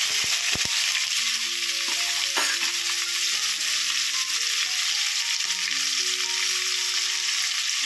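Onions and green chillies sizzle steadily in hot oil in a pan for mushroom biryani, a continuous close frying hiss with occasional stirring clinks and no talking.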